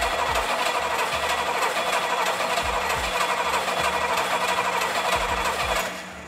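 An engine cranks over with its spark plugs removed, spinning fast and evenly in a loud, steady, rhythmic churn for about six seconds before dropping off near the end.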